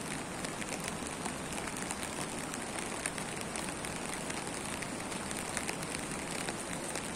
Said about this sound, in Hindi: आज बद्रिकाश्रम में बहुत सुंदर वर्षा होते हुए